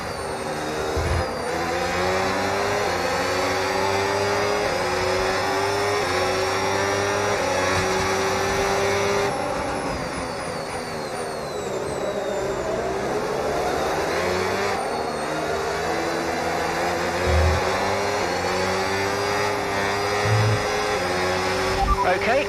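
A Formula 1 car in a racing game screams at high revs under hybrid overtake boost, the engine pitch climbing through gear shifts, steady and loud, with a voice talking over it.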